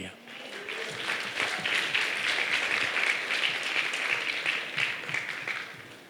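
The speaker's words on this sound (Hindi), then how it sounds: "इसलिए परमेश्वर के वचन के लिए ताली बजाओ" A church congregation claps steadily for several seconds in a sustained round of applause.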